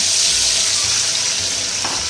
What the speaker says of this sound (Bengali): তার জন্য কড়াইয়ে তেল দিয়ে তেল খুব ভালো করে গরম করে নিয়েছি এবার আমি এগুলোকে এইভাবে দিয়ে দিচ্ছি